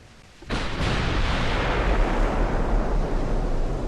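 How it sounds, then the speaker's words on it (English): Warship guns fire in the naval combat game Ultimate Admiral: Dreadnoughts, a loud sudden boom after a short quiet lead-in, followed by a heavy rumbling roar that sustains and slowly fades. "all guns should be pointing in the correct direction, so we shall fire."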